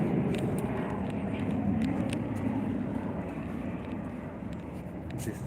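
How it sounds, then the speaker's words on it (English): Aeroplanes flying near an airport produce a steady, broad engine roar that fades slightly over several seconds, with faint wind noise on the microphone. "every time we listen the sound of the aeroplanes"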